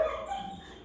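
A dog in an animal shelter gives a brief, soft whimpering vocalisation close by, a thin whiny tone over low background shelter noise.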